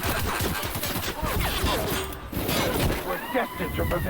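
Gunshots in the video game The Outer Worlds crack out in rapid, repeated bursts, mixed with clattering impacts and shifting effects, with game sounds and a talking voice running underneath.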